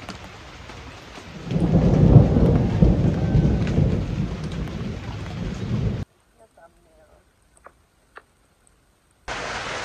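Heavy rain at a camp in Jamaica drums steadily on a surface, swelling louder for about six seconds before cutting to near silence, then resuming abruptly at the end; no thunder clap stands out.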